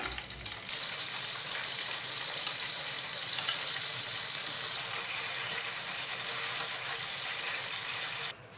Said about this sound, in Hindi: इसी तरह सारे चिकन को फ्राई कर लेंगे।